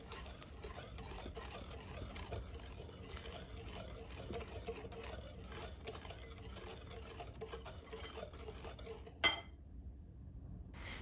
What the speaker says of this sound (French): Je fouette bien le tout, ce qui permet de mélanger les ingrédients tout en tamisant la farine rapidement